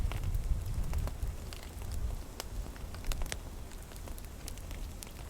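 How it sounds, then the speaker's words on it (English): A campfire burns in the rain at a wild camping tarp shelter where pork is spit roasting, with sharp scattered crackles and pops over a low, soft rumble. "Fire's healthy, thankfully."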